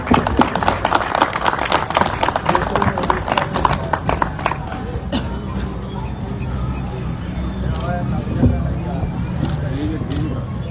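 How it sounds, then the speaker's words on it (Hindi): Audience clapping at a pigeon-flying tournament prize distribution ceremony, loud dense applause for several seconds that thins out, with crowd noise and talk underneath. "तालियां भी बोल दीजिए"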